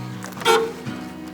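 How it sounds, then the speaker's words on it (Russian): A Moskvich car horn gives one short honk, a brief nasal toot heard from inside the car over low background noise. "Всегда бибикаешь, когда садишься внутрь, чтобы все знали."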